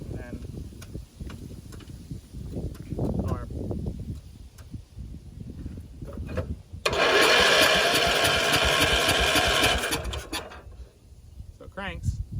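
An old tractor engine cranking over without starting, a loud whirring roar lasting a few seconds after a stretch of clicks and mechanical fiddling up close.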